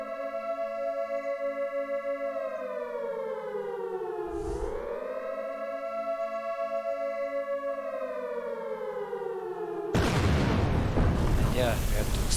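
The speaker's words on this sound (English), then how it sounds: "And yeah, we have two explosions." A video game nuclear missile strike: a wailing siren rises and dips for several seconds, then a sudden loud rumbling blast cuts in and roars to the end.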